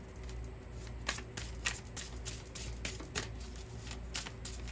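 Tarot cards are shuffled by hand in a quiet room, producing repeated soft riffling bursts and light flicks in an irregular rhythm, close and faint.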